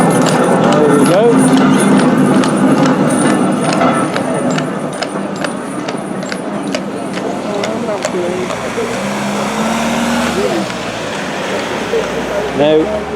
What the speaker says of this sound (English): One of the lovely horse-drawn trams,